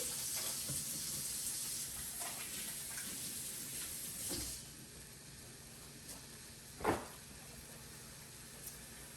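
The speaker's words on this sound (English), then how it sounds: "you can hear it sizzling, and it's already starting to smell really good." Chicken sausage sizzles and hisses in a hot pan, a steady crackle that slowly fades, with a couple of brief clinks or knocks.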